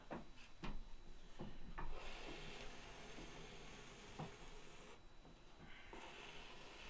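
A trim tool shaves a large open clay bowl on a turning wheel, giving a soft steady scraping rasp with a few light knocks, faint and continuous throughout.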